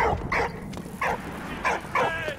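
Dog barks in the video game Valiant Hearts: five short, clear barks or yips spaced across a couple of seconds, fairly close and alone without talk.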